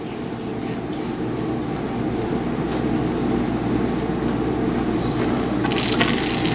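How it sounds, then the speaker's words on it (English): Water turned on and running, probably from a tap in a chemistry lab setup, a steady loud rushing flow that builds slightly and brightens near the end, with no talking. "Now she's going to just go ahead and turn on the water."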